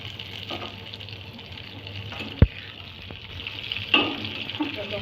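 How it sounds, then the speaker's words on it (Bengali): Tomatoes and onions fry in a pan with a low, moderate sizzle, punctuated by a sharp utensil clack and a stirring scrape, with no talking. "টমেটো দিয়ে নাড়াচাড়া করে"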